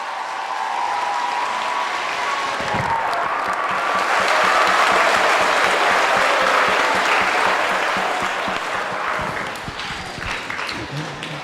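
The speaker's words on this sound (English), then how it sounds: "One more round of applause for our guest speaker" Sustained applause from a school assembly audience honoring a guest speaker at a Veterans Day program, a dense wash of clapping that swells to a peak midway and then gradually thins out.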